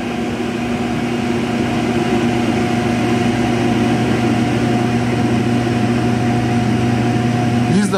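A food truck ventilation fan runs at its maximum speed, a steady loud hum with strong tonal drone and constant airflow rush, unchanging from start to finish.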